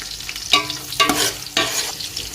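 Green chilies and onions frying and being stirred in a pot, with bursts of sizzling as each stir scrapes through, three distinct surges over a steady background crackle, close and fairly loud with no talking.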